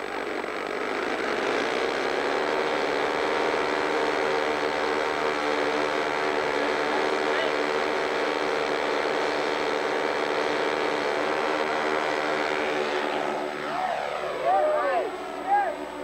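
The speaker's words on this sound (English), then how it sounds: "60-foot takeoff roll." A propeller aircraft engine drones steadily and loudly during a 60-foot takeoff roll, holding a constant pitch before its tone shifts near the end as the plane leaves the ground, with faint voices at the close.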